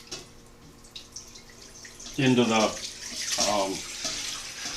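Cooking liquid from pulled pork, with peppercorns and used onions, is poured through a vintage colander into a container below, splashing and gurgling steadily in short surges, while someone talks briefly.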